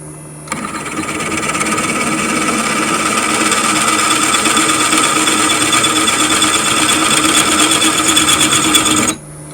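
A drill press runs with a 6.8 mm tapping size drill, giving a steady, loud mechanical whine and rattling drone for about nine seconds, starting and stopping abruptly, with no talking.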